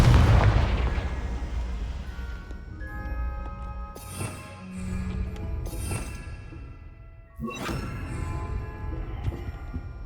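Confringo fire-blast spell cast in Hogwarts Legacy, a series of loud booming blasts with metallic ringing tones and bright sparkling bursts over a steady low rumble.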